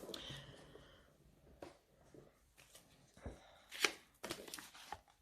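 Oracle des Miroirs oracle cards are shuffled and cut by hand in a quiet room, making soft, close, intermittent rustles and papery slaps with a faint voice now and then.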